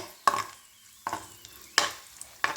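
Four sharp sizzling bursts as cashews and raisins hit hot ghee and get stirred, each crackle fading quickly, with quiet pauses between them.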